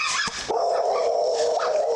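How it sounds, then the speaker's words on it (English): A dog in a backyard, one of three confronting first responders, lets out a loud, close bark and then a sustained high whine that carries on to the end. "Watch that dog here."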